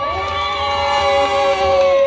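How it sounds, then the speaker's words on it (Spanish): Crowd at a children's contest in Crotona Park cheers and shouts continuously, children's voices mixed into a steady, moderately loud roar with a sustained tonal hum running underneath. "Aplauso para él."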